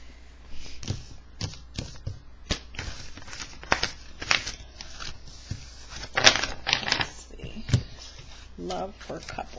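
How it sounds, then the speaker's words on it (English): Tarot cards being shuffled for a love reading, a run of quick irregular taps, riffles and flicks of the deck, close and moderately loud, with a person talking quietly in between. "I'm going to reshuffle the cards real quick"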